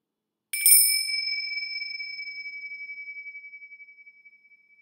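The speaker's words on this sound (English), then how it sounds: "So as you notice the bell," A single mindfulness bell is struck once, giving a bright metallic attack and then a clear, sustained ringing tone that fades slowly and evenly over several seconds in an otherwise silent room.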